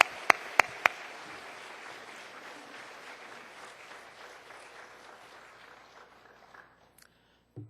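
A church congregation claps to welcome a visiting pastor, with a few sharp loud claps at the start, then sustained applause that gradually fades out to near silence.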